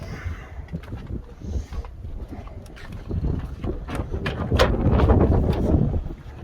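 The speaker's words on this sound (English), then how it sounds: "Oh man, that wind is cold." Cold wind blowing outdoors during a Honda Civic hatchback build, a steady low rumbling buffet across the microphone, growing gustier toward the end, with no clear speech.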